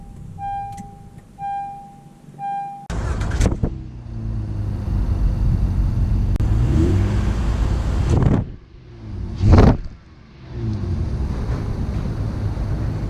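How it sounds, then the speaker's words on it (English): A 2019 Honda Ridgeline pickup truck on a drive, with a low engine and road rumble under steady wind and tyre noise, broken by short bursts and two sharp rushing swells, after a quieter opening with a few tonal chimes. "let's take the Ridgeline out for a quick drive portion just to see how this truck drives"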